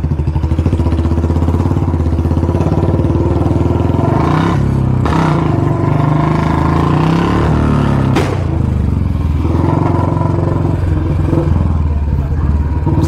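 Loud Royal Enfield Bullet 350 motorcycle engine throbbing and revving nearby, with a couple of sharp exhaust pops bursting out over the steady rumble.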